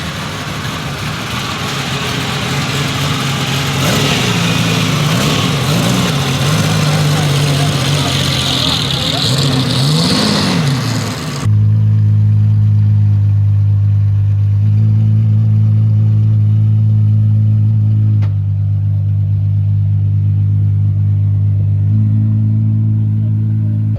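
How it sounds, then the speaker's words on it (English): An Apollo IE supercar at Monterey Car Week roars loudly, its engine rising and falling through revs before settling into a deep, steady idling drone up close. "It's actually crazy how loud this car is"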